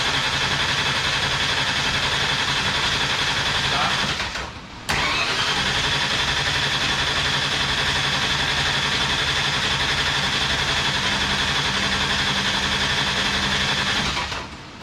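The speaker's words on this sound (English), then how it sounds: "I want to crank it for a second." A car engine on a combined Ford and Chevy build cranks loudly and steadily for several seconds, pauses briefly, then cranks again in a long, continuous churning run without catching, close to the microphone.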